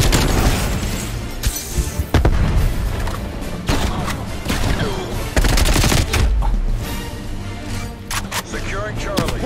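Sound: GROZA assault rifle gunfire in Black Ops Cold War video game

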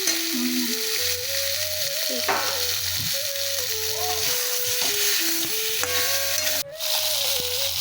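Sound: lata fish frying in a pan

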